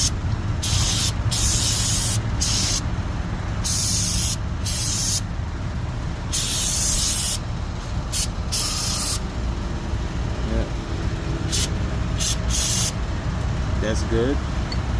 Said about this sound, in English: this brake cleaner. I'm gonna just spray that